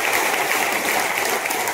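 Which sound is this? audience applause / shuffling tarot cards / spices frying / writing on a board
audience applause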